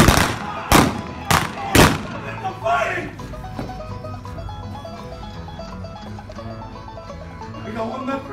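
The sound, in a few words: gunfire at Tombstone OK Corral gunfight reenactment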